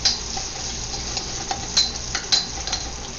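Garlic is stirred in oil in a pan for a keto Chinese beef and green bean stir fry, with a steady soft sizzle and a few light scrapes and taps of the utensil close up.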